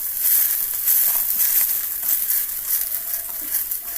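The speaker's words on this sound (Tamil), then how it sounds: "ரவாவை கொஞ்சம் கொஞ்சமாக ஆட் பண்ணி இப்படி கிண்டிக்கணும்" Rava is added a little at a time and stirred in a hot pan for upma: a continuous soft sizzling hiss with scratchy scraping strokes, fairly close and even in level.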